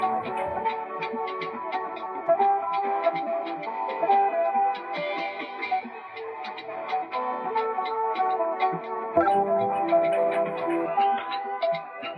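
A chopped, pitched-down RnB music sample plays with layered tones and a ticking rhythm, moderately loud and continuous with a few abrupt cuts, no voices over it.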